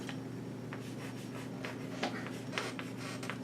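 Hand-writing a calculation with a pen: a steady run of scratchy strokes and short taps, close and fairly quiet, with no voices.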